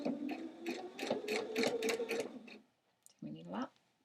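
Sewing machine running a straight stitch along the V-neck of a thrift-store sweater, a fast steady needle chatter for a couple of seconds, then a brief hum as it stops, with a voice talking.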